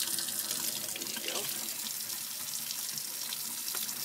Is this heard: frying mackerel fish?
no